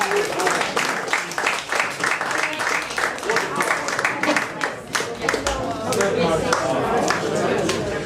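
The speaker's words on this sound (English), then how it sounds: "let's hear a big round of applause for Porrick Stevens" A crowd at a Tuam culture night event gives a loud, dense round of applause, sharp overlapping claps sustained the whole time with some chatter mixed in.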